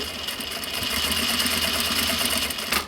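A sewing machine stitching a recycled denim pouch runs in a steady, fast mechanical whir with rapid needle chatter, close and continuous throughout.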